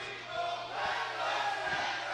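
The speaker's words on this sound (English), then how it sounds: "This crowd is going crazy" A roaring arena crowd at a wrestling show, on their feet and cheering in a continuous loud wash of voices with faint thumps underneath.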